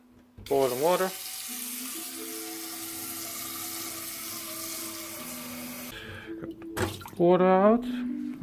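Cold water gushes steadily from a kitchen tap into a pot for creamed spinach, a close, continuous hiss lasting several seconds, with brief bits of a voice just before and after the pour.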